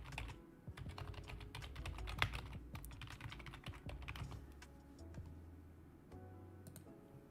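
Close, steady typing on a computer keyboard, rapid irregular key clicks running continuously with a low hum underneath and no talking.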